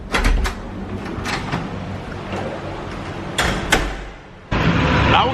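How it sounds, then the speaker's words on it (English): Heavy wooden doors in a hotel, loud and close, with sharp knocks and thuds over a steady background hum, and a louder rushing noise near the end. "It's the loudest closing doors in a hotel I have ever been in my entire life."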